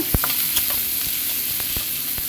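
Chopped onion sizzles and fries in a pan with panch phoron spices, a steady loud hiss broken by several sharp stirring scrapes, with no voices.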